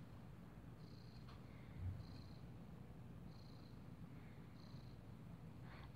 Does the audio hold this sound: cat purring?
yes